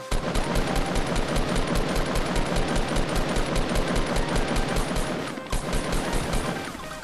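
Rapid automatic gunfire rattles almost without a break in a Fortnite Battle Royale firefight, loud and dense, with one short pause near the end before the shooting resumes.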